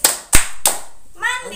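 First-grade pupils in a classroom clapping chant, three crisp, loud hand claps in a quick rhythm, then chanting voices resuming.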